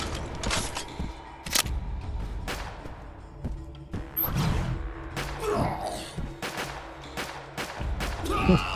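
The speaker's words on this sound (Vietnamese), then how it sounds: "Giết địch từ xa như súng nhắm luôn, súng lục mà bắn ảo ma đó" Pistol fire in the FPS video game AILIENS, with repeated sharp gunshots ringing out at an irregular rhythm over a busy game soundscape of crashes and effects.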